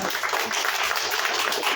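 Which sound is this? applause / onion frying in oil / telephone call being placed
applause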